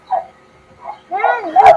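Big dogs give a few short barks and whimpering yips, close and fairly loud, with the last calls the strongest.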